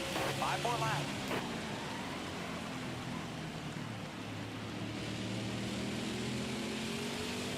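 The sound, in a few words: race car engine throttle in NASCAR Heat 5 video game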